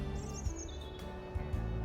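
Chickens in a small yard give brief high chirps and calls over a steady low rumble and hum.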